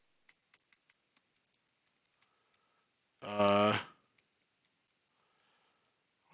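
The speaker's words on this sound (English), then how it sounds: "I'm trying to press like every button on the keyboard right now." Keys on a computer keyboard being pressed while playing a DOS pinball game, a scatter of light clicks at the start and a few more later, with a brief voice in the middle.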